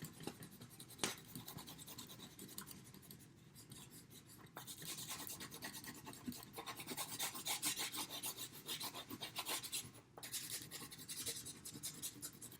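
Crayon rubbing and scratching over fabric while coloring, a close, dry, continuous rasp with uneven strokes and brief pauses, fairly faint and without talk.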